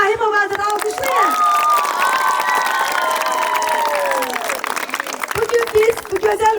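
Applause and cheering from a crowd at a children's dance festival in Shusha, steady clapping with shouting children and whistling tones, loud and sustained over several seconds before a voice returns.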